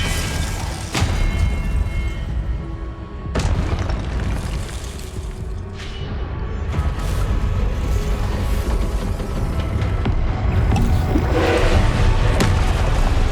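Repeated Confringo fire spells exploding in the Hogwarts Legacy video game, heavy booming blasts over a dense, constant rumble of combat, with sharp hits near the start and a sustained roar throughout.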